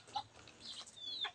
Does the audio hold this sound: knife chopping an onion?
no